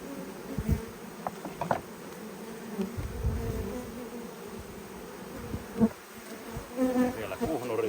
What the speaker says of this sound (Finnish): Teillä on näköjään siellä mikin kimpussa aika hyvin mehiläisiä.